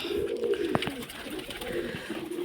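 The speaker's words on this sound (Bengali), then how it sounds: "একটা ম্যাড্রাসি পায়রা," Madrasi pigeons cooing in a loft, a low throaty rolling coo repeated several times, close and clear over a faint background hum with light clicks, no speech.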